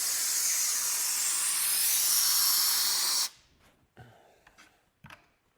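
Great Stuff Wide Spray foam sealant hisses in a loud, continuous spray from a can inside a post-frame garage for about three seconds, then cuts off abruptly, leaving a few faint clicks and handling noises.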